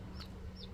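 A brooding hen that has hatched chicks gives two brief, faint clucks over a steady noisy background.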